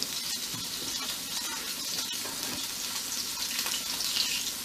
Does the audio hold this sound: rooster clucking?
no